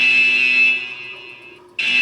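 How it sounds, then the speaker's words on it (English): A security alarm sounds inside a vault, a loud steady electronic tone held for nearly two seconds with a brief cut-off near the end before it resumes. "the alarm's going off"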